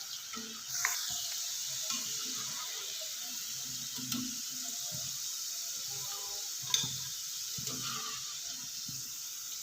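Potato fries sizzle in a pan over a medium flame, a steady close crackle of hot oil with a few sharper pops and scrapes.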